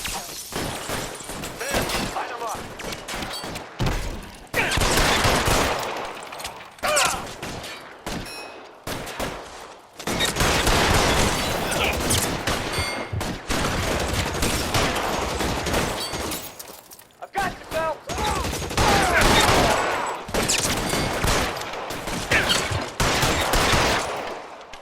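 A gunfight in the video game L.A. Noire: dense bursts of gunfire and rapid shots with crashes and shattering, loud and sustained over about twenty-five seconds with brief lulls, while voices shout now and then.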